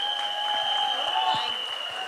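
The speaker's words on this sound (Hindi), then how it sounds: "ताली बजा के दिखा दीजिए" An audience at an Akshay Kumar and Rajpal Yadav trailer launch claps steadily, a dense patter of applause beneath a sustained tonal hum from the hall's sound system.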